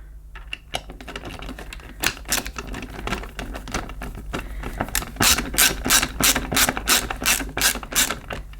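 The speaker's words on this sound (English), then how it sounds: "Let's just tighten these screws up." Screws tightened into a Truvox Valet II cordless bagged upright vacuum cleaner, giving close, rapid ratcheting clicks in bursts that grow denser and louder toward the end.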